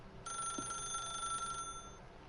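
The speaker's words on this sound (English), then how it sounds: "If you can truly place your faith in another, then pick up the phone." A telephone rings in the video game The Stanley Parable, one steady electronic bell tone lasting over a second, clear and fairly close, with no talking over it.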